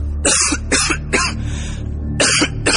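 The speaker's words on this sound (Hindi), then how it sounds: "हंसते हंसते वो खांसने लगा" A series of harsh, loud coughs close by, about five bursts with short gaps, sounding like a fit of coughing after laughter.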